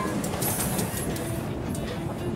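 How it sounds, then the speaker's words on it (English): A train in the video game New Super Lucky's Tale rolls past as a steady mechanical rumble with faint clicking and rattling, continuous and moderately loud, with no talk over it. "Looks like there's another train."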